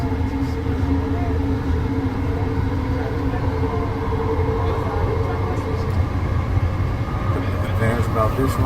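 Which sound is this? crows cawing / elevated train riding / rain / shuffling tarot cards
elevated train riding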